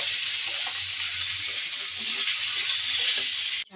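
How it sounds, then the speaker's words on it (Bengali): Gourd greens frying with reddened onion and garlic give a dense, loud, continuous hiss close by, with faint stirring scrapes underneath before it cuts off abruptly at the end. "পেঁয়াজ আর রসুন লাল লাল হয়ে আসছে, আমি শাকগুলো ঢেলে দেবো। এদিকে আমি নেড়ে চেড়ে নিচ্ছি।"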